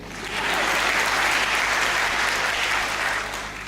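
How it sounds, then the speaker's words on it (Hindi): Dense, sustained applause from an audience at a Hindi comedy poetry show, a loud continuous wash of clapping that swells quickly and holds steady before easing off. "तुमसे ताली भी नहीं बज रही"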